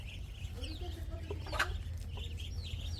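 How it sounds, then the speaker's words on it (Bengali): A hen clucks softly in a few short, faint calls over a low, steady background hum, distant and quiet. "আমার এই মুরগিতে ডিম পারছে"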